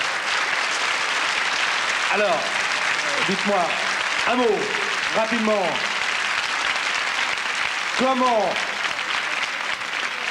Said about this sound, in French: On l'applaudit quand même, hein?